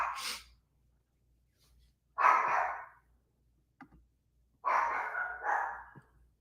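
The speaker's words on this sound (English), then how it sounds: "Dog going crazy." A dog barks in three separate bursts, the first short and the later two longer and fuller, with silence between them, heard during a game stream.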